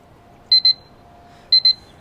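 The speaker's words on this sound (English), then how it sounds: "You heard the alarm go off." An alarm clock beeps in two quick double-beep bursts about a second apart, bright and electronic, marking the end of an hour-long Far Cry 4 play session in an otherwise quiet room.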